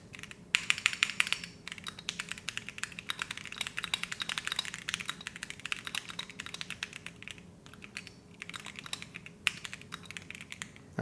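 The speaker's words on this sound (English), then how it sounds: "She's a Keychron keyboard." Fast, steady typing on a Keychron mechanical computer keyboard, dense clicky keystrokes close by and fairly quiet, with a faint hum underneath and no talking.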